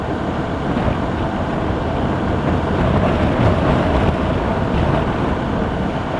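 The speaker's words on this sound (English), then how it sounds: "that wind's really getting up now." Strong wind roars steadily across a rider's helmet on a BMW R1200RT motorcycle, a loud, continuous broadband rush of buffeting air with engine noise underneath and no break.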